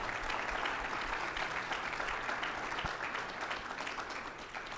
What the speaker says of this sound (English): please give our 3 panelists a round of applause.